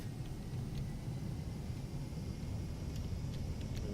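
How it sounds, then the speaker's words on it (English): A loud, steady jet engine roar from an Avro Vulcan bomber spooling up in War Thunder rumbles continuously, deep and broad, holding at an even level throughout with no voices. "Listen to that engine"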